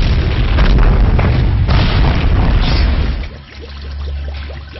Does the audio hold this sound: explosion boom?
yes